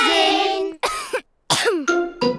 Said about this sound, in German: Pedros Husten ist ansteckend.